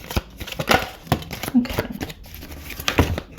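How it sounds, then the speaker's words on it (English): Tarot cards with a slightly glossy finish, shuffled overhand: a series of quick papery slaps and rustles in an irregular rhythm, close by, with a person speaking intermittently. "Oh, I really shuffled them."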